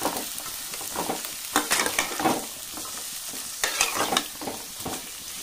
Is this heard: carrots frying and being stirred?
yes